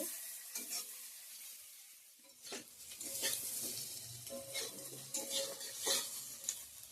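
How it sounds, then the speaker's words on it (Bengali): Beans and potatoes fry in a pan with a hissing sizzle, broken by scraping stirs and the light clink of a utensil against the metal; fairly quiet, no talking. "সিম আলু কেটে রাখছি এটা ভাজা করব"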